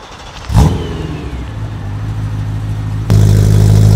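A BMW E92 M3 with a naturally aspirated V8 revs hard and close, its loud engine note rising, holding as a steady drone, then jumping louder again near the end.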